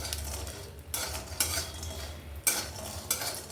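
Bengali lentil dumplings (bori) frying in oil until reddish, heard as intermittent utensil scrapes and stirring strokes against the pan over a faint background hiss.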